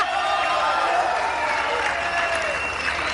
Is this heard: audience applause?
yes